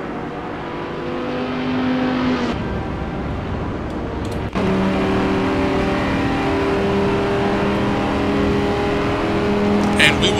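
A GT race car at Mugello in a racing video game accelerates hard out of corners, its engine revving up through the gears with sharp shifts, loud and close, under continuous commentary.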